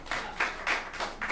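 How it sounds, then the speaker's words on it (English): A few people in a small audience at the Hideout clap their hands, producing a short, fairly even series of soft claps that sound near. "Clap your hands if this is your first time to the Hideout."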